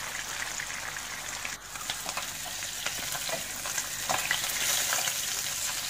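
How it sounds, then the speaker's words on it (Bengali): Pabda fish fry in hot mustard oil with a steady, bright sizzle and crackle, joined by scattered pops and occasional scraping stirs, close and moderately quiet with no talking. "মাছগুলো খুব ভালোভাবে ভাজা হয়ে গেছে"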